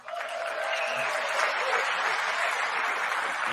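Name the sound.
crowd applause at a speech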